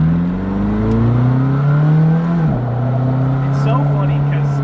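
McLaren 620R on a dirt surface pulling away, its engine note climbing steadily, dipping at a shift, then rising again, loud and close inside the cabin.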